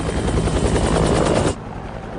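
Helicopter rotor noise in a prison-break film scene, a loud, dense roar with a steady beating pulse that cuts off abruptly after about a second and a half, leaving quieter rumbling.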